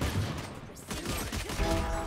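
Gunfire in a Valorant match: a quick burst of shots, moderately loud, under game sounds and no clear talk.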